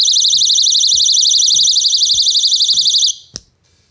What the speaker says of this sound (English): you can pull this and it'll sound an alarm like this